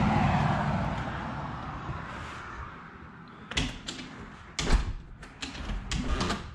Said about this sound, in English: Shut the door, there we go